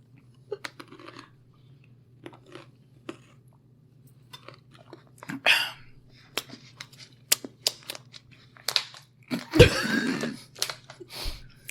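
Someone chewing crunchy food close to the microphone, scattered crisp bites and crunches with quiet pauses over a low hum, one louder burst near the end.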